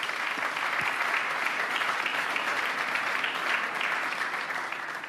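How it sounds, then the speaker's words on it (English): Steady, sustained audience applause for a panel at a security conference, a dense even wash of clapping holding at constant loudness throughout with no talk over it. "Let's give a huge round of applause to our panel."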